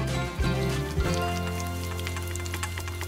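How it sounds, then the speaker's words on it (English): Za'atar spice mix of sumac, salt and pepper shaken hard in a container, giving a steady, dense dry rattle like rain, with a couple of heavier knocks early on and no talking. "All you need to do is give this a good shaking."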